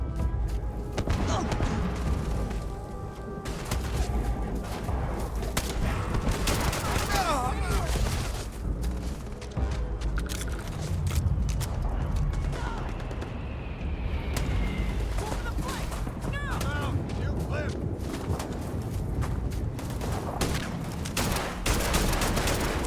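Gunfire in the video game Starfield: dense, continuous bursts of shots and booms in a chaotic firefight, with voices breaking in now and then.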